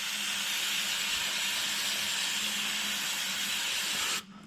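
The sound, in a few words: degreaser being sprayed on an oil catch can filter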